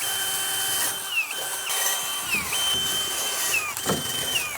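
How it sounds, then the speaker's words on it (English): A power drill with a large bit whirs steadily while boring holes in a bathroom renovation, its motor pitch dipping repeatedly as the bit bites and releases, with faint mechanical rattles in between. "I'm gonna reach up with that great big drill bit."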